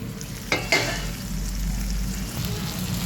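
Chopped tomatoes hit a hot frying pan where fenugreek leaves were cooking for a soya bean curry, giving two sharp bursts of sizzle followed by a steady, softer frying hiss.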